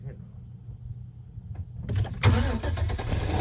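A 2006 GMC Sierra 1500 with the 5.3 engine starts up after a quiet stretch with some talking, turning over and catching into a loud, close running engine.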